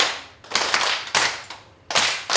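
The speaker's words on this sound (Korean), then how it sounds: "박수만 시작!" Participants in a 7080-era song class clap in unison on cue, four sharp, loud group claps spaced roughly half a second apart, each ringing briefly.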